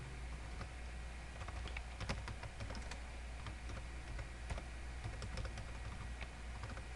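Quiet typing on a computer keyboard, a run of light irregular key clicks with a few sharper presses, alone over low background hum.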